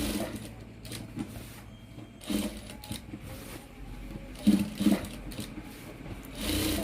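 Sewing machine running quietly as it double-stitches the collar of a Punjabi dress, a steady low mechanical whir with a few brief louder bursts, faint and alone.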